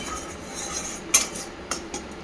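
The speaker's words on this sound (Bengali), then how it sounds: "এটা কষছি যতক্ষণ আমি বেগুনগুলো ভেজে নেবো।" A utensil stirs tomato masala in a frying pan, making soft scraping sounds with a few sharp metallic clinks of spoon against pan, close and without any voice.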